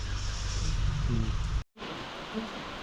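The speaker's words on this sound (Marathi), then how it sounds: "परत पाऊस चालू झाला" Steady rain hisses continuously, with a brief dropout midway, then resumes at the same even level.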